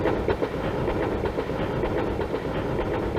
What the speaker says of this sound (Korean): 기차는 우렁찬 기적을 울리며 철길을 달리고 있었다